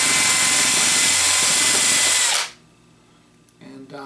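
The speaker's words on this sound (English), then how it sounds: "I'm going to take this drill, this is like an 1/8 inch bit, and I'm going to just punch some holes" A power drill fitted with a 1/8 inch bit whines loud and steady for about two and a half seconds while punching holes, then cuts off abruptly, leaving quiet handling noise.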